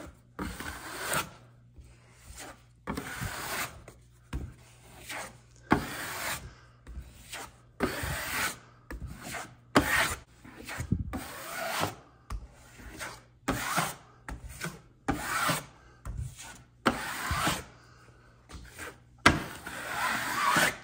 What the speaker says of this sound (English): we're just filling in the thicker gaps in our drywall with the Easy Sand 20